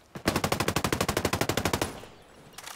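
Rapid automatic gunfire in the shooter game Ghost Recon Breakpoint, one long burst of about twenty evenly spaced loud shots, then a brief pause and the start of another burst, with no talk.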